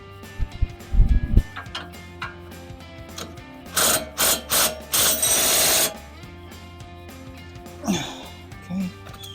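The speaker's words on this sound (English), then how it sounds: "On this side over here, we're using the 17 mil socket." A ratchet turns a 17 mm socket on a front shock bolt of a Silverado/Sierra 1500 pickup during a Bilstein B8 5100 shock install, giving bursts of close, rapid clicking, with low talk and workshop noise around it.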